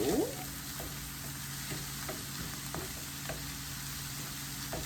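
Spinach fries in a hot pan, sizzling steadily at moderate level with occasional soft clicks of stirring, and no voices over it.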